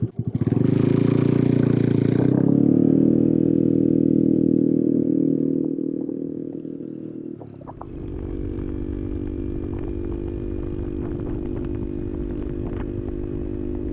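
A Honda Navi motorcycle's small engine runs loudly near the microphone, revving at first, then dipping and settling into a steady rough drone with clattering and rattling as the ride begins.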